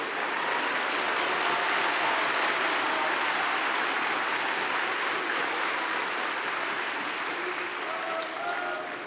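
A large audience at a CHP parliamentary group meeting in the Turkish parliament claps loudly and continuously, a thick sustained roar of applause with faint voices mixed in.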